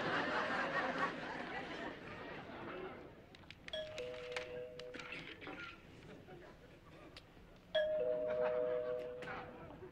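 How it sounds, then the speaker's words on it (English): A two-tone doorbell chime rings twice, a few seconds apart, over faint background chatter and laughter. "The doorbell is ringing"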